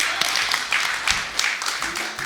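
An audience at a live conference stage show breaks into applause, a steady wash of many hands clapping with a few louder claps rising out of it, fairly close and sustained throughout.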